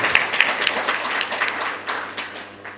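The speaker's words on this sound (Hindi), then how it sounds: "एक बार जोरदार तालियां बजाने के बाद" A crowd at a political rally claps enthusiastically, a brisk burst of many hands with a few sharper claps standing out, loud and near, gradually easing over a few seconds.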